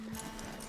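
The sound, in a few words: horse hooves in video game Red Dead Redemption 2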